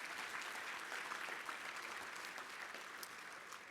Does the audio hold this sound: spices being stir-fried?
no